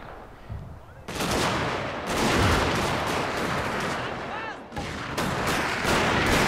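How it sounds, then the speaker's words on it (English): Carbine cavalry and opposing troops exchange fire in a Total War Shogun 2: Fall of the Samurai battle, a dense, loud stream of overlapping musket shots with brief gaps. "his Carabine cavalry are going to try to face off against my Soviet bears in a 1-on-1 gunfight"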